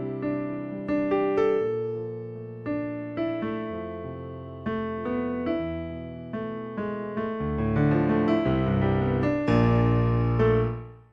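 A Yamaha portable stage piano plays alone, chords and melody notes struck in a flowing rhythm, each attack decaying before the next, building to a fuller, louder passage near the end and then cutting off.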